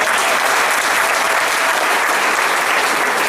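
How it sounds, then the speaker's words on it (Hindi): An audience claps loudly and continuously at a talk, a dense, even wash of applause with no pauses and no voices over it. "अरे वाह वाह, जोरदार तालियां हो जाए"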